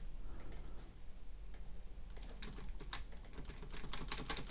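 Rapid, continuous clicking of fingers typing on a computer keyboard, close and steady with denser bursts toward the end, no voices.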